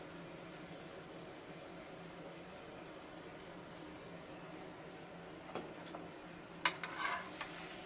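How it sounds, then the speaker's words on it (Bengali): A shrimp and cucumber curry sizzles softly in a pan as a low steady hiss. A few utensil scrapes and clinks come near the end as it is stirred. "আমি এবার তরকারিটাকে নেড়ে দেব।"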